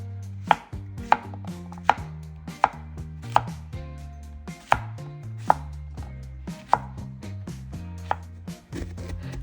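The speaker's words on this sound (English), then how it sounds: "then we're going to do a rough chop on some zucchini." A knife roughly chopping zucchini on a cutting board, about a dozen sharp, evenly spaced thuds close by, with soft background music underneath and no talking.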